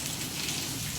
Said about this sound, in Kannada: ಅದ್ರಾಗಂತೂ ಮಳೆ ಹೊಂಟದ ಇವತ್ತು